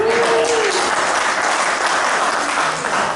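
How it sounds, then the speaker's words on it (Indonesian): Husbands in a seminar audience applaud together in a loud, sustained wash of clapping that fills the whole stretch and stays even throughout, with a brief vocal tone at the start. "Semua suami tepuk tangan."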